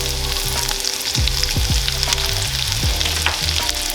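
Garlic and onion fry in browning butter in a pan, a loud, continuous close-up sizzle with crackling pops and a few stirring scrapes, no voices over it.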